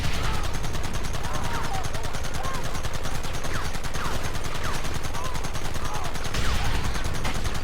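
Rapid gunfire in a Red Dead Redemption shootout during Dutch's last stand, with dense, continuous volleys of rifle and machine-gun shots at close range, sustained throughout with faint voices mixed in.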